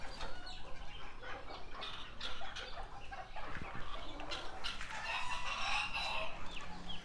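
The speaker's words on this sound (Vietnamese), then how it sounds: "Con gà mái nó đang ấp." Serama chickens cluck in a farm yard where a hen sits brooding on eggs, giving a continuous jumble of clucks and bird calls at moderate volume with no talking.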